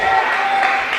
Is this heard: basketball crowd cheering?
yes